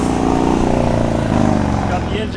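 A Suzuki RM250 two-stroke motorcycle engine rumbles loudly and revs briefly, with a voice speaking over it.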